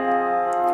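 Helium's spectral lines rendered as a steady chord of sustained pure tones, several pitches layered and held evenly, with a couple of faint ticks near the end.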